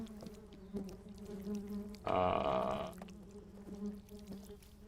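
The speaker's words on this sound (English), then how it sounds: "I don't want the damn bees." Swarming bees buzz in the Genital Jousting video game, a steady droning hum that swells into a louder, denser burst for about a second before settling back to a low buzz.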